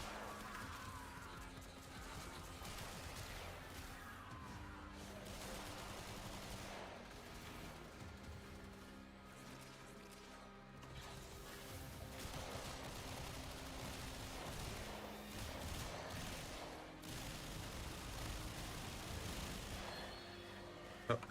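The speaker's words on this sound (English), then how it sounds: "just going full auto with these guns" Sustained full-auto gunfire in Warframe, a steady dense rattle of shots layered over game music and effects, running loud and continuous for the whole stretch.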